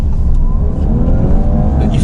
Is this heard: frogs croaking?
no